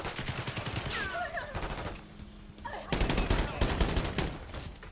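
Akimbo guns firing in the Call of Duty Black Ops 6 campaign, with rapid, loud bursts of shots repeating in clusters, briefly easing before a heavier volley resumes.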